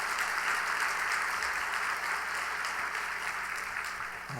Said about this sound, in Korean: 하나님 앞에 한번 감사의 박수를 한번 돌리십시다